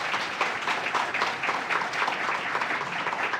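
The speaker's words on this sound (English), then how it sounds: "Give them a round of applause." An audience at a headquarters grand opening claps for a legislative delegation, an even, moderately distant round of applause without a pause.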